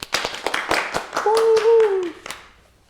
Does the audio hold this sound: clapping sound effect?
yes